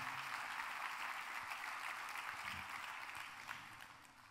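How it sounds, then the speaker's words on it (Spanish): A church congregation applauds the Lord together, a sustained, even wash of many hands clapping that holds steady and then tapers slightly toward the end, with no speech over it. "Dale un aplauso al Señor antes de sentarte"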